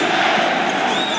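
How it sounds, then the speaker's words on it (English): Basketball arena crowd on its feet during a Western Conference Finals game between the Lakers and Denver Nuggets, a loud sustained roar of voices chanting, dense and continuous throughout. "Crowd on its feet chanting defense."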